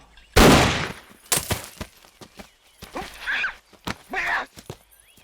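A single sharp gunshot cracks loudly near the start during a comedy scene in the film Sholay, followed by scattered clatter and short vocal sounds.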